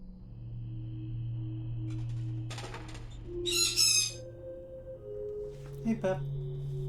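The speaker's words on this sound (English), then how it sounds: "Bird squawking." A bird in the video game Tunnet gives a loud, harsh squawk mid-way with wing-like flutters, set against steady electronic drones and tones; brief clicks and beeps come and go around it.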